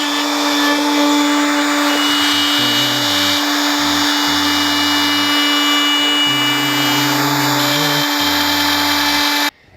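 A power router cuts a truss rod slot into a guitar neck for a Les Paul Custom build, its steady high whine loud and continuous with the pitch dipping briefly in several places as the bit loads up, then stopping abruptly at the end.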